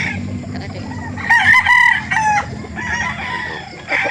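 A Sweater gamefowl rooster crows loudly and close by at a poultry market in Calauan, Laguna, one long crow followed by a shorter call, with faint clucking and background noise around it.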